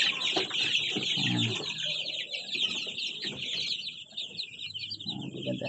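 Seven young Rhode Island chickens cluck and peep softly nearby in a steady, busy stream of high chirps and low clucks. No one talks, and faint background hiss sits underneath.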